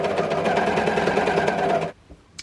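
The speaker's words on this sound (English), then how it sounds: "I'm just going to stitch along so that it comes in line with where it's in the correct alignment" Overlocker serging a seam in the round on fabric, a loud close rapid whir running steadily for about two seconds before stopping abruptly, followed by a brief faint click.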